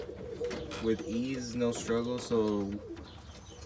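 Birmingham Roller pigeons coo close by, a few soft, rolling throaty calls repeating in short bursts while someone talks over them.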